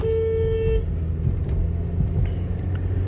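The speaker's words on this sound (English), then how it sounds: "just honked at somebody because they were driving like 2 miles an hour in a 30-mile zone" A car horn gives one sustained honk, then cuts off, leaving the low rumble of a running vehicle engine.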